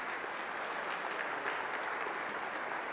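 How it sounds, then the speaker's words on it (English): Audience applause after a school orchestra performance at a high school concert, a sustained wash of many hands clapping, soft and somewhat distant, steady with no voices. "One more round of applause for them."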